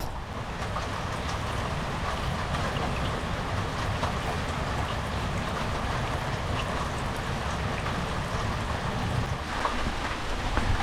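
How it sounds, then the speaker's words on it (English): Steady, dense rain drums on a tin carport roof overhead, a continuous loud patter with no pauses and no voices. "You can sure hear that rain hitting that tin roof of this carport, can't you?"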